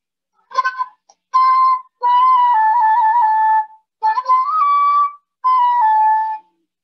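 Breathy, slightly rough whistle-like tones from a homemade PVC pipe flute with an unremoved burr at the bore, played alone in five short phrases with brief pauses between them.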